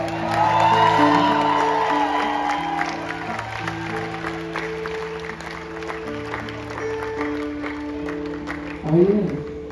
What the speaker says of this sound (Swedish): ge honom en applåd